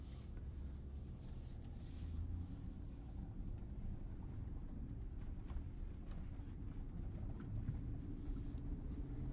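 A 2022 RAM Power Wagon heavy-duty pickup on 33-inch all-terrain tires pulls away on a dirt fire road, a steady low engine and tire rumble with wind buffeting the microphone throughout.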